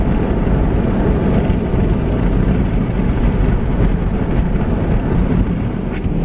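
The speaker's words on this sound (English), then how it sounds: "It just got really windy and it's starting to snow like crazy." Strong, steady wind roaring and buffeting the microphone during a snowfall, a dense continuous rush with no letup and no talk.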